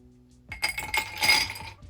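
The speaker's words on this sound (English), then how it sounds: "So we're gonna fill the glass with ice." Ice cubes clink and rattle into a glass as a bartender builds a vodka highball, a brief burst of bright knocking that starts after a short quiet lead-in and fades out.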